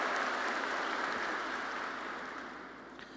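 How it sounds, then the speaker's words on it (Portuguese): Congregation at a Sunday Catholic Mass applauding after the Gospel reading, a soft, distant wash of many hands clapping in a reverberant church, steady and then gradually fading out. "A nossa salva de palmas, a palavra de Deus, fonte de vida e salvação."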